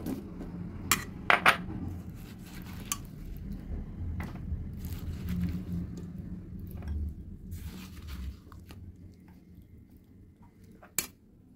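A glass bowl clinks a few times while guava jelly ingredients are measured out, sharp isolated knocks over a low kitchen background, with a final clink near the end.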